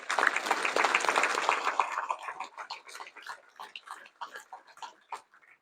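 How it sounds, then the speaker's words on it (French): Applause for referees at an international tournament draw ceremony in Dirinon, dense clapping at first that thins into scattered individual claps before fading out. "je souhaite qu'on remercie et qu'on applaudisse les arbitres du tournoi."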